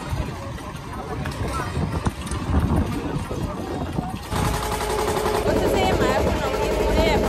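A river boat's engine drones steadily on a trip home by boat near Nabadwip and Mayapur, with a rough rattling throb that grows louder and denser partway through while voices talk over it.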